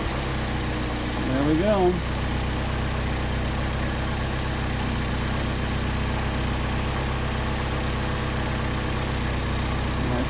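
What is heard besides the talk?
Mercedes 190SL engine idling on Solex 44PHH carburetors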